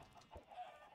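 Minecraft chickens clucking in a short burst of a few soft, close calls alone, with a brief low thump midway.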